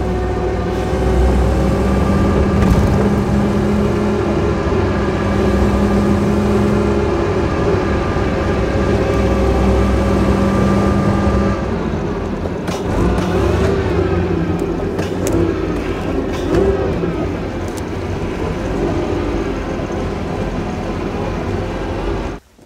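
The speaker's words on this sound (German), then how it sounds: "So, wir zeigen euch jetzt mal, wie die Maschine angeht." Supercharged engine of a 1935 Bugatti Type 46 S cabriolet running steadily, a loud, continuous harmonic drone that holds even for most of the clip, then turns rougher with a few sharp transients before cutting off abruptly at the end.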